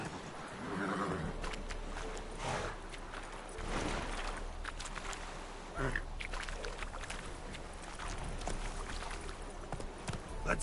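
Hoofbeats of a horse galloping in the video game Witcher 3, a steady drumming gait running throughout with a whinny near the start, mixed with game ambience.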